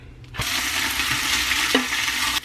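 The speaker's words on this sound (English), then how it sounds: "while the meat is browning" Ground Italian sausage meat browning in a soup pot, a loud, close, steady sizzle that bursts in abruptly and holds evenly, with a brief stir or clink partway through.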